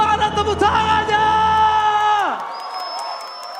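A Mobile Legends esports arena crowd at the MPL Indonesia match roars with cheers and whoops, loud and sustained, then swells into a swooping electronic tone as the roar drops away.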